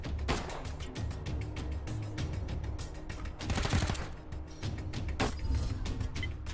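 Rapid gunfire bursts from the turn-based video game Wasteland 3, loud and dense shot volleys repeating across the whole stretch, with a heavier cluster midway and no talk over them.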